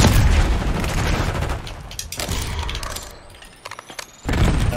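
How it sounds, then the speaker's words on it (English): An electric shotgun fires during Call of Duty: Black Ops 6 multiplayer on the Babylon map in Domination mode, loud booming blasts with crackling tails, several shots in quick succession and a final heavy burst. "What is that weapon that the guy's using? It's like an electric shotgun."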